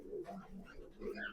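Pigeons in a loft give soft, low cooing in a couple of faint, rolling bursts, quiet and close, with no talk.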